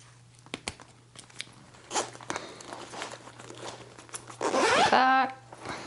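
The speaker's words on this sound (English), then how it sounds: "Okay, here's the zipper pull." A metal zipper pull is clipped onto the zipper of a handmade fabric tote bag, giving scattered small clicks and rustles, then a denser jingling, scraping burst near the end; close and fairly quiet.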